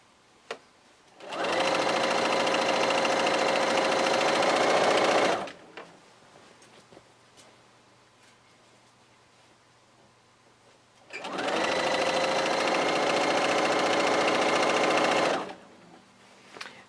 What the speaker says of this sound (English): I just want to make sure that I sew that flat down